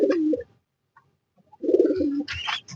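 A young yellow-eyed female racing pigeon cooing up close, two distinct throaty coo phrases separated by a short pause.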